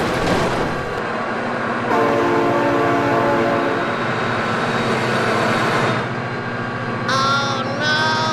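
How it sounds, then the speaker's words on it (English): A train passes close by with a sustained loud rumble and rolling clatter, then sounds its horn in two short tonal blasts near the end. "Oh my god, train!"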